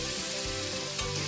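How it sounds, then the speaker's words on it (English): Onion tipped into a hot pan with beef for Mongolian beef gives a loud, steady sizzle with low rumbling pulses, close and continuous. "Now time to put the onion in."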